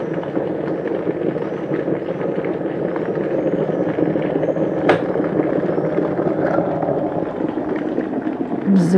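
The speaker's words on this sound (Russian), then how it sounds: "Жду, когда чайник закипит." An electric kettle comes to a boil: a steady, broadband rushing hiss with a low rumble, continuous throughout with a faint click near the middle.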